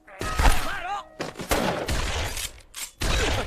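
Gunfire bursts in a comic audio drama, loud rapid volleys of shots in separate bursts with short pauses between them, with shouted voices mixed in.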